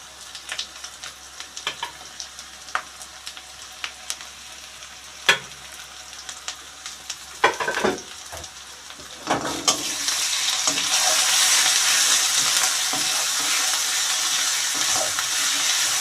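Coriander-cumin paste lands in a hot pan and frying flares up, with scattered clinks and stirring scrapes first, then a loud, steady sizzle that swells and holds for the rest of the stretch, close and without any voices.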